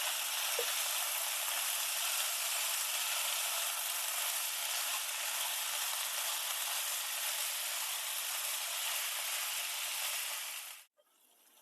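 Chopped spinach cooks in a pan of masala, giving a steady, even sizzle close by with no talk, cutting off abruptly near the end.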